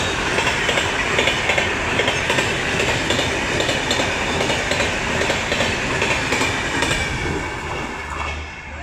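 A train passing through a railway station in Junagadh, a loud continuous rumble with rhythmic wheel clatter and a faint squeal, steady throughout and fading slightly at the end, with no voices.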